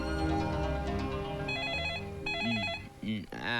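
A telephone rings in a Hindi film scene with Emraan Hashmi and Dia Mirza, a bright electronic warbling ring in repeated bursts that follows louder music and then gives way to other tones.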